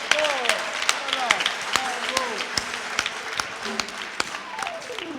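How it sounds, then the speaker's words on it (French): A crowd of children at a pilgrimage in Popenguine claps, sharp scattered hand claps mixed with excited voices and high shouts. "Applaudissez très fort."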